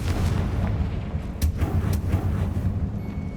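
Fire-spell blasts of Confringo in the PS5 game Hogwarts Legacy come as loud booming bursts over a constant rumbling background, with several sharp impacts close together.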